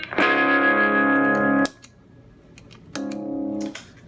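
Two heavily distorted electric guitar chords through an EarthQuaker Devices Plumes and Golden Plexi distortion pedal ring out close and loud, separated by a short pause with faint pick and string noise.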